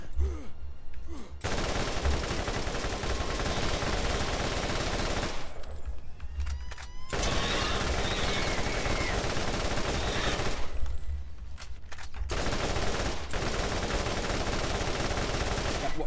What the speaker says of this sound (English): Am I shooting fucking blanks?